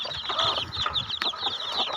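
Several small chicks peep in shrill, rapid bursts from close by during feeding time, their high calls overlapping almost continuously with a few scratchy clucking notes underneath.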